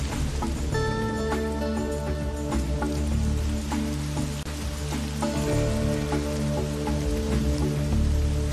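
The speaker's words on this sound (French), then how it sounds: "Je vais invoquer la pluie pour qu'elle fertilise ces arbres et que la vie soit rendue à la" Steady rain pours down continuously, dense and even throughout with no pauses, filling the scene alone without any voices.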